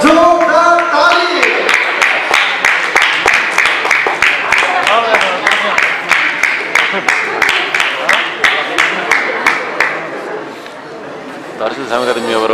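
An audience at a dance academy's annual cultural program claps in a loud, rhythmic unison beat for several seconds, with crowd chatter running underneath before the clapping trails off.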